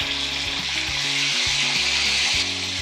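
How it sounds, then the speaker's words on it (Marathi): Tomatoes sauté in a hot tempering of oil, curry leaves and fenugreek seeds for varan, giving a loud, continuous close sizzle throughout. "टोमॅटो व्यवस्थित असं परतत आलेलं आहे"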